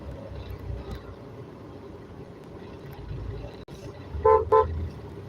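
Slow-moving night traffic in Trivandrum rumbles steadily, then a car horn gives two quick, close, fairly loud toots near the end.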